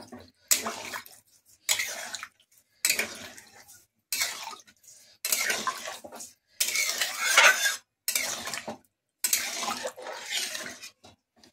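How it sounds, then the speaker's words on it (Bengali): Water goes into a pan of Rupchanda fish curry in about eight separate splashing pours, each roughly a second long with brief quiet gaps between, close and fairly loud. "এবার আমি জল ঢেলে দেবো।"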